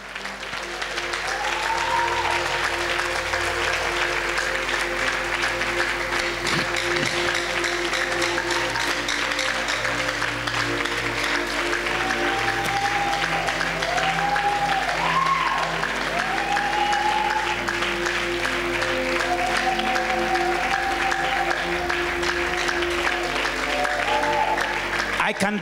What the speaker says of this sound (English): Come on, give the Lord for me another clap of praise.